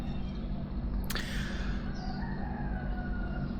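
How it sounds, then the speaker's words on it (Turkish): A rooster crows on a morning street in Thao Dien, Ho Chi Minh City, sounding as one drawn-out call partway through over a steady rumble of traffic and city noise. "Sesleri duyuyor musunuz? Horoz, tropik kuş sesleri."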